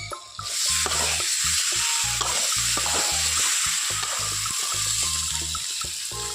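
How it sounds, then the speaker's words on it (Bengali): Jackfruit curry with potatoes sizzling loudly in a pan as water is poured in, a steady hiss and bubbling with rhythmic stirring scrapes throughout, close and continuous with no talk. "এখন এর মধ্যে জল দিয়ে দেবো"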